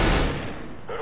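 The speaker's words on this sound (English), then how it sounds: "That was a shotgun." A single loud gunshot in the video game CS:GO, a sharp blast that decays quickly with a short tail.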